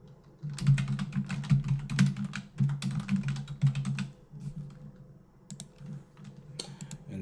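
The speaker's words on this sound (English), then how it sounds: "I'm going to type into the search field." Rapid typing on a computer keyboard, entering text into a web search field; close, crisp key clicks come in quick bursts with short pauses.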